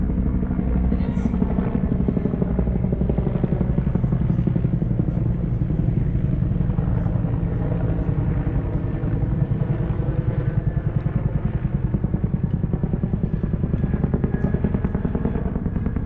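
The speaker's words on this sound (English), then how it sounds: "I'll wait a minute until the helicopter flies over." A helicopter flies overhead at a Montana stand down, its rotor chop pulsing loud and steady for the whole stretch as a heavy, continuous low thumping.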